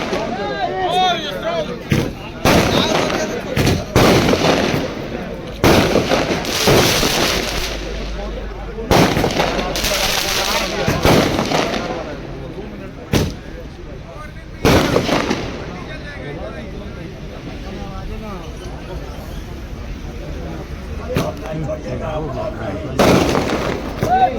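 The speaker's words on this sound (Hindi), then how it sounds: "पटाखा बंद करे, बंद कराइए, बंद कराइए।" Loud firecrackers burst repeatedly at irregular intervals, sharp bangs crackling over a noisy background with people talking.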